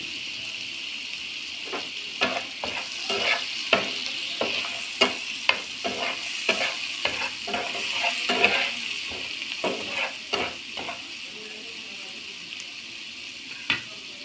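Tomato masala frying with turmeric and red chili powder, a soft steady sizzle broken by irregular scraping clicks of a spoon stirring in the pan.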